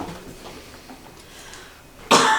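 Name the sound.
coughing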